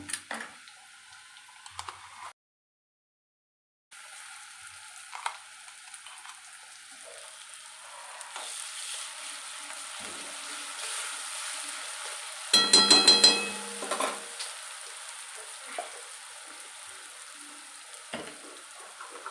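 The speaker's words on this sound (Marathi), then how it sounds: "आता आपल्याला हे खोबरं, लसूण, कोथिंबीरचं वाटण घालायचं आहे यामध्ये।" Coconut, garlic and coriander paste goes into a pan of browned onion for a rustic Maharashtrian horse gram curry, giving a quiet, steady sizzle with a brief gap and a short louder burst of frying midway.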